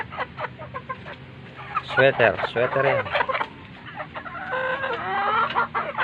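Young stag roosters about three months old cluck and crow close by, with repeated clucks and a drawn-out crowing call, while someone talks over them.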